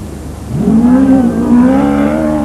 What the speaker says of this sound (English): V8 buggy.